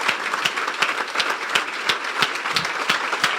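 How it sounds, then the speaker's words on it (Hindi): A church revival convention audience claps steadily and loudly, with dense applause continuing throughout and no voices heard. "आपकी भरपूर तालियों में जोरदार तालियां बजाइए।"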